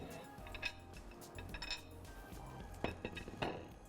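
Light metallic clinks and scrapes of a spoon against a pan as sweet Balochi meetha dalag halwa is dished out into it, soft and intermittent.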